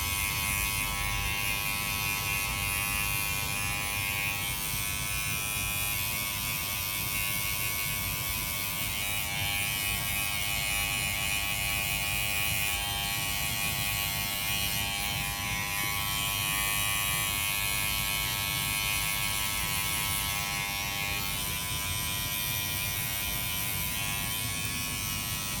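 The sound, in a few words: electric hair trimmer (T-liner) cutting hair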